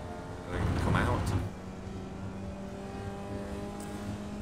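Formula Vee race car engine in the iRacing sim at Okayama Circuit, rising briefly to a louder burst of acceleration before settling into a steady drone, with speech likely over it.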